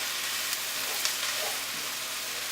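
Vegetables for a vegan zucchini, potato and tomato casserole fry in a pan, giving a steady, close sizzle throughout, with a few faint scrapes and taps as they are stirred.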